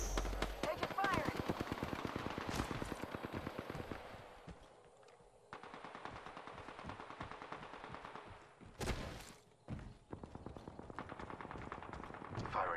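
Gunfire in the video game Apex Legends: loud, rapid automatic bursts crackle almost continuously, broken by a few short pauses and heavier single blasts before firing resumes.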